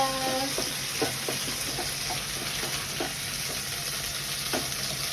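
Onion frying in hot oil in a home kitchen, a continuous bright sizzle with intermittent stirring clicks and scrapes of a utensil against the pan, close and fairly quiet, no speech.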